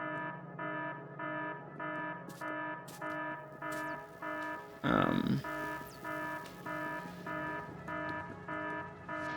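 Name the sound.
alarm in video game Factorio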